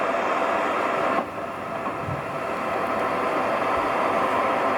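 A steady roar of a train in motion, with a dense rumbling wash that dips briefly and then builds back up, close and continuous.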